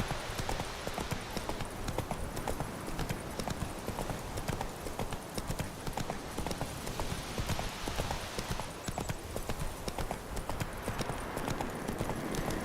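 A horse gallops in The Witcher 3 video game: steady, rhythmic hoofbeats pound without a break for the whole stretch, close and moderately loud.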